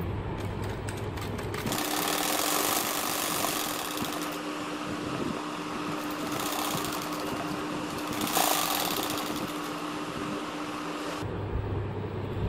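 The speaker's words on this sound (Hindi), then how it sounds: "इसी तरह अब फिर से हम लंबाई की तरफ सिलाई लगाएंगे।" A sewing machine runs a long lengthwise seam along a double bed sheet, a steady close mechanical whir held for most of the stretch, beginning and ending with brief quieter pauses.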